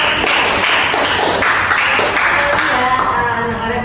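A classroom of students claps together during a lesson, a dense steady patter of hand claps that stays loud through the whole stretch, with some voices mixed in.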